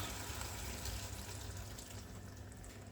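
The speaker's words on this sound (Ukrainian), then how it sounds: "Тобто дві таких мисочки води я маю налити." Water pours into a frying pan of buckwheat in a steady, rushing stream, fairly quiet and continuous, with no voices.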